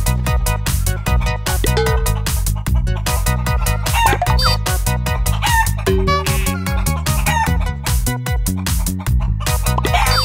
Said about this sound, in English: Want to see the chicken?